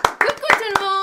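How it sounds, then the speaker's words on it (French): A short burst of a few hand claps mixed with bright, excited voices, including a child's, close to the microphone. "On applaudit, bravo."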